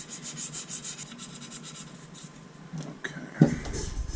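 Hand sanding a fiberglass-style rocket nosecone for a G12 avionics bay, a soft close rubbing scrape with uneven strokes, ending in a louder brush near the finish.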